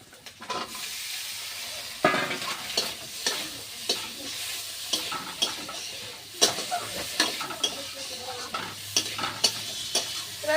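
Boiled potatoes fry in curry in a pan, a steady sizzle broken by repeated scraping stir strokes and occasional utensil knocks, close and loud without any talking.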